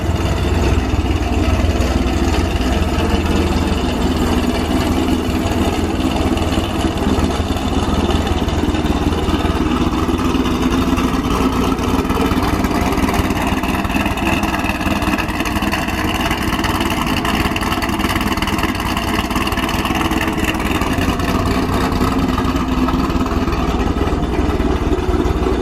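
A 2008 Chevrolet Corvette base model engine runs steadily for the whole stretch, with a loud, continuous low rumble and no speech over it.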